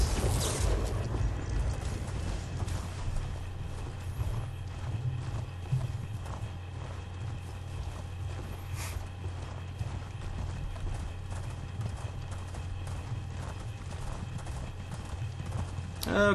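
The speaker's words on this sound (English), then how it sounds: "Finally get back on my horse" A horse's hooves clip-clop steadily at a gallop over a low rumbling background in the video game Elder Scrolls Online, the rhythmic footfalls continuing throughout at moderate loudness.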